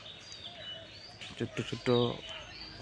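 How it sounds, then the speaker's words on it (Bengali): Small birds chirp and call faintly and steadily on a village morning among areca palms, while someone speaks a few words briefly over them. "পাখির ডাক"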